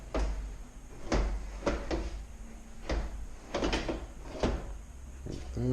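Fulgor Milano oven door hinges being fitted back into the frame slots: a string of sharp metallic clunks and knocks at uneven intervals, heard under a person talking.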